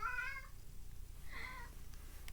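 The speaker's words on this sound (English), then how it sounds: "we have the giant cat again, still, as always" A cat gives two clear meows nearby, a longer one at the start and a shorter one a second later, against a quiet indoor room.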